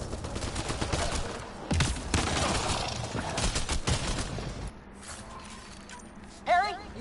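Gunfire in the Mass Effect Andromeda video game: rapid bursts of weapon fire and mechanical clatter for several seconds, then quieter battle ambience with a short electronic warble near the end.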